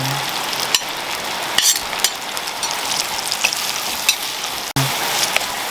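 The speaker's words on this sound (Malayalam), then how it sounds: "അപ്പോൾ ഇതിലേക്ക് പച്ചമുളക്, കരിവേപ്പില, ഉള്ളി, പിന്നെ ഇഞ്ചി എല്ലാം ഇട്ട് നമ്മൾ ഇളക്കി" Green chilies, curry leaves, onion and ginger frying in hot coconut oil for a fish curry, an even crackling sizzle with a few sharp pops and spoon clinks against the pan, close and continuous, no speech.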